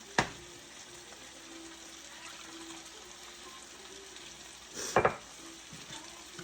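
Beef broth is poured and stirred into a sauce mixture for beef and broccoli, making quiet liquid sloshing over a soft background hiss. Two short clinks of a utensil against the pot stand out.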